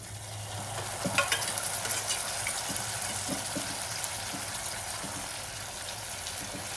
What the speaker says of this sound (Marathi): आता आपल्याला टाकायचं आहे कुकरमध्ये ठेवलेलं चिकन आणि चिकनचं पाणी